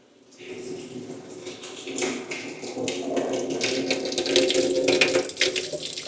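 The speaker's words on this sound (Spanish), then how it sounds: "Esto es agua directo de la fuente termal. Sale caliente" Hot spring water gushes steadily from a fountain tap at a thermal spring, a rushing, splashing flow that swells louder over several seconds, with faint voices in the background.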